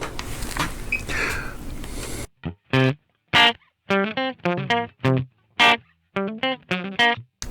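After a burst of noisy rumble, an electric guitar plays separated notes and short phrases through a Quilter Superblock US amp with its reverb, dry and close with clear pauses between.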